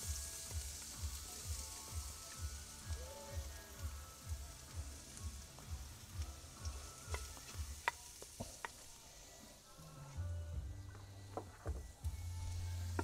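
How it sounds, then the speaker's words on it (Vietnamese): Lemongrass and chili fry in hot oil, sizzling and crackling steadily, with a few sharp pops and the clatter of stirring. "Giờ dầu á cho vô cũng nóng, giờ em cho xả ớt vô"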